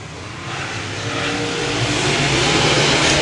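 Race cars circle a dirt track during a main event, their engines a continuous loud roar that swells and builds steadily as they pass turn three.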